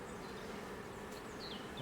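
Honeybees buzzing steadily around a beehive frame during beekeeping, a continuous close, even drone with no talk.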